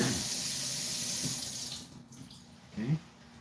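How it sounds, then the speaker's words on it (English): Water running from a tap over washing hands, a steady splashing stream that fades out, followed by a couple of faint handling sounds. "you wash your hands"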